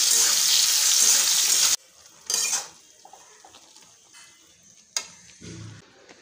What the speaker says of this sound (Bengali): তো আজকে দেখে নাও কি রান্না হচ্ছে, এটা হচ্ছে লাই পাতা আলু বেগুন দিয়ে সর্ষে বাটা দিয়ে চচ্চড়ি হবে